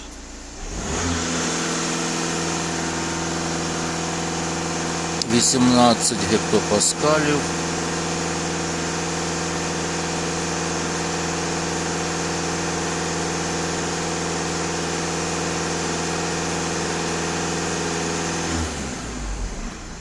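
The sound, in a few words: diesel engine running at revs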